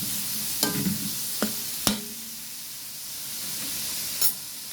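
Pakbet vegetables stirred in a pan, with a few sharp utensil clacks and scrapes over a soft background sizzle and hiss, then a quieter stretch of gentle frying.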